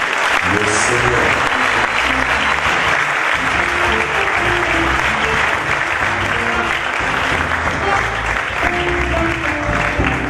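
A church congregation applauding and cheering together, dense sustained clapping with voices mixed in throughout, loud and close.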